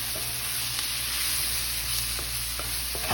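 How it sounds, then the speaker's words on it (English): Shrimp and vegetables sizzle in an iron skillet with a bright, steady frying hiss, broken by a few soft clicks and scrapes of stirring, close and continuous. "You hear that sizzle?"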